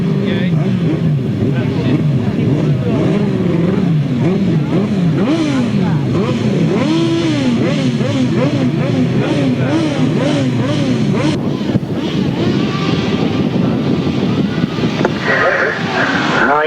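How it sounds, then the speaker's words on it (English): Grasstrack racing motorcycles at a 1995 meeting rev hard together at the start of a semi-final, their engines rising and wavering loudly while a commentator talks over them. "you can hear the revs go up and the tapes go"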